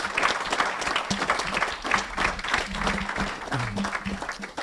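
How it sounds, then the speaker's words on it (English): Listeners applaud speaker Yaron Brook after his talk at a Heartland Institute event, loud, close clapping that continues throughout while a voice speaks briefly over it. "let's all give him a round of applause"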